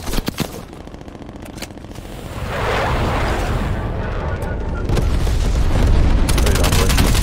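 Napalm strike in the Black Ops Cold War video game: a rising, sustained roar of rumbling explosions that swells and holds loud over several seconds, with some gunfire crackle and game noise underneath.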